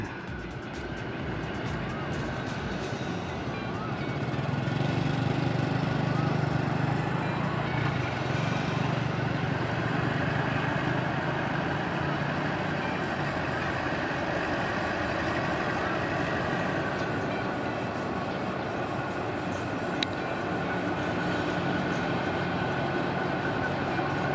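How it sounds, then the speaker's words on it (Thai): A diesel-electric locomotive running after a wash, its engine giving a steady low rumble with a broad roar that swells slightly and holds, continuous and fairly near throughout. "สตาร์ทแล้วก็ล้างเสร็จก็ขับออกมาเลย"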